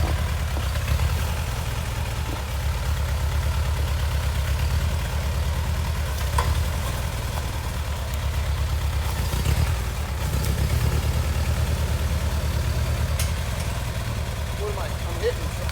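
A vehicle idles steadily while backing a trailer up into the woods, giving a continuous low rumble with faint ticks and knocks scattered over it.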